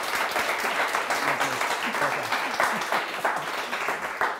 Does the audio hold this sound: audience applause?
yes